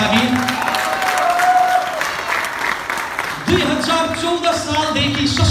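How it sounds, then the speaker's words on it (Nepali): An audience at an awards ceremony gives loud, sustained applause with a crowd murmuring, while amplified voices and music are heard over it partway through. "एकचोटि फेरि पनि जोरदार ताली दिदीका लागि"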